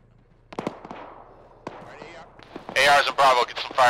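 Gunfire in a military video game set in Takistan: scattered sharp shots early, then a dense loud burst of rapid firing toward the end, with a voice talking during the gaps.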